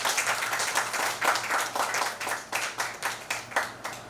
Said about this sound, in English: A big round of applause, ma'am.